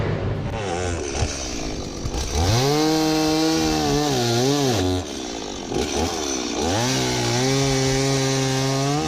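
A chainsaw roars close by, its engine pitch rising and falling as it revs and bites into wood, running continuously without pause.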